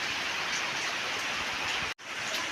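Rain falls steadily around a rural farm plot, an even, close hiss of countless drops with a momentary break in the sound near the end.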